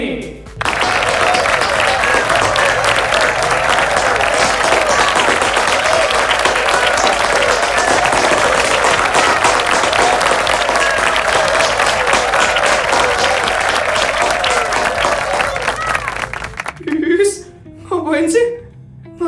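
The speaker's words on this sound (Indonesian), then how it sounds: "beri tepuk tangan yang meriah untuk menyemangati teman-teman kalian ini" Schoolchildren in a class give loud, lively sustained applause to cheer on classmates, a dense wall of clapping lasting many seconds before it cuts off and a voice speaks briefly.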